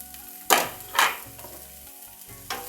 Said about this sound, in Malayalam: അതെല്ലാം കൂടി ഇട്ട് അങ്ങോട്ട് അങ്ങോട്ട് വഴറ്റുക